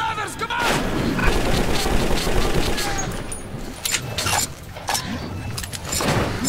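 Heavy gunfire in the video game Metro 2033, with loud, rapid shots and bursts cracking close by in a dense firefight, with shouted voices mixed in.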